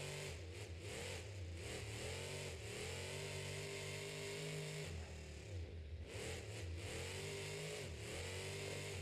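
The Monster Jam truck Uproar revving in a stadium, its engine rising and falling in repeated surges and holding a sustained roar in between, distant and loud, with no talking.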